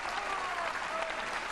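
A crowd applauds steadily at a 2000 World 9-ball Championship pool match, a dense, even wash of clapping that carries on throughout.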